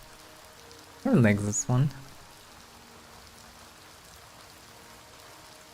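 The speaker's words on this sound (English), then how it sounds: "In the middle of the night under the rain." Steady rain falling at night in the video game Oblivion Remastered, a soft, even patter throughout, with a person speaking briefly near the start.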